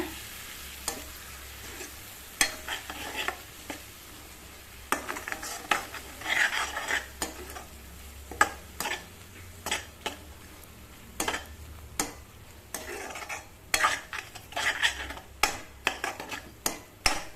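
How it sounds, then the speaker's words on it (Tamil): Three eggs are stirred and scrambled in a hot pan for a tasty breakfast, with a utensil repeatedly scraping and tapping the pan in an uneven rhythm over a steady, close sizzle. "அப்படியே கொஞ்சம் நேரம் இப்போ முட்டை நல்லா நான் கலக்கிக்கிட்டேங்க"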